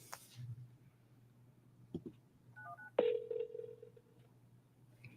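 Faint telephone keypad dialing tones sound as a call is placed, a few short beeps over a low hum and quiet background noise, close but soft.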